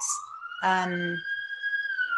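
A city siren wails steadily in the background, a rising and falling tone, while a person speaks over it.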